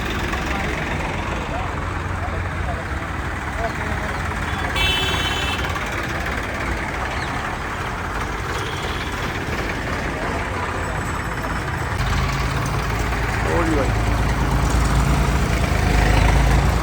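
About 200 diesel tractors idle together at a village tractor rally in Ropar, a steady, low rumbling drone, with voices talking faintly beneath the continuous engine noise.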